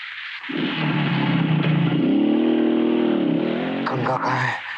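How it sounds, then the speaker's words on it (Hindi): A motorcycle engine roars up loud and close, revving hard and holding a steady rumbling drone as it speeds away, with a brief burst of shouting voices near the end. "गंगा मोटरसाइकिल लेके भाग गई"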